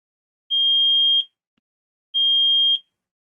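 An IoT alarm buzzer switched on remotely through Blynk gives two identical high electronic beeps, each lasting under a second, separated by a short silence.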